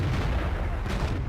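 Tank gun fire in a tank combat video game, with an M24 Chaffee in play, comes as a dense, booming low rumble of artillery-like blasts that continues loudly through the whole moment.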